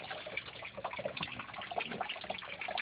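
Water draining through a siphon in an aquaponic grow bed, a soft continuous trickle with small bubbling drips, close and steady with no talking.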